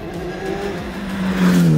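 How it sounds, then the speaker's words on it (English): A 1986 Ford RS200 Evolution race car accelerating hard on turbo boost, its engine note climbing steadily in pitch and loudness over under two seconds, heard close and alone. "When this car gets on boost, hold on."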